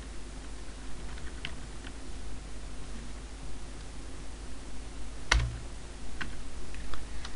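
Light clicks of typing on a computer keyboard during Ubuntu Server configuration, sparse and quiet over a steady hiss, with one sharper tap partway through.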